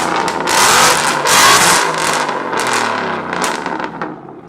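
A car engine with a fresh tune, new alternator belt and oil change revs hard and close, rising and falling in loud repeated surges, with no talking over it.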